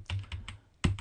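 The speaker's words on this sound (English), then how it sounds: "one thing you can do is a text box in there and then just start typing" Quick keystrokes on a computer keyboard while entering text into a text box for an eBook, a few soft taps followed by a louder cluster near the end, close and with no talk.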